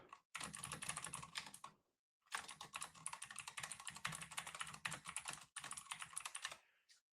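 Rapid, continuous typing on a computer keyboard, dense clattering keystrokes in two long bursts separated by a short pause, close and clear with no talking.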